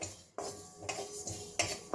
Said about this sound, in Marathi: हे फक्त गरम कढईमध्ये मी थोडंसं शेकून घेणार आहे